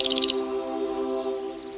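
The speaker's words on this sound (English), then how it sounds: "she could hear the birds sing delightful songs" Cartoon birds sing in an animated fairy tale: a quick run of bright chirps and a thin whistle at the start, over a soft, steady musical drone.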